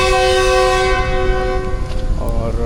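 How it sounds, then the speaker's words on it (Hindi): Horn of passenger trains pulling out of Rahim Yar Khan station in Pakistan, a long steady blare with layered tones that fades after a second or so, leaving station rumble and a faint voice. "33 up plus 15 up plus 41 up, 3 ट्रेनों का मिक्सचर डिपार्चर हो रहा है रहीम यार खान से"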